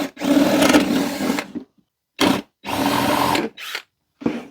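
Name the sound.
power drill drilling a drainage hole in a wooden planter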